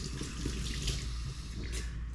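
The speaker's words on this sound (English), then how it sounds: "now I am going to wash my hands real quick" Water running steadily from a kitchen tap while hands are washed, a continuous close splashing hiss with no talking.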